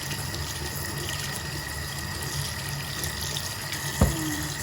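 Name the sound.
tap water running while washing lemons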